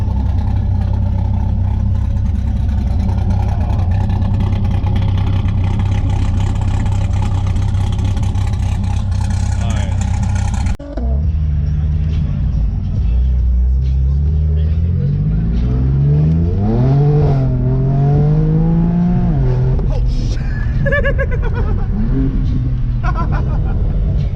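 At an outdoor cars-and-coffee show, a car's cammed engine idles with a choppy, loping rumble, then revs up and down in rising and falling sweeps. People talk over the loud engine.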